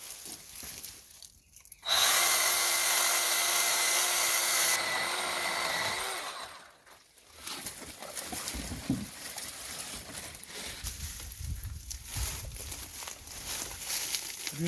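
A Milwaukee M12 Fuel Hatchet pruning saw cuts through a thick piece of wood, a loud close buzzing chain whine lasting about three seconds before it winds down, followed by quieter handling and rustling noises.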